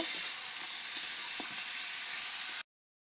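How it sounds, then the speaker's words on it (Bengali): Mutton pieces frying with onions in a pan give a soft, steady sizzle with faint crackles, fairly quiet and continuous before cutting off abruptly near the end. "এবার মাংসটা পেঁয়াজের সঙ্গে একটু হালকা ভাজা ভাজা করে নিব।"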